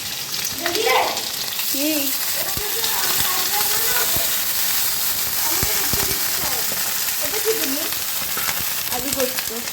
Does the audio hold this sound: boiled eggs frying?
yes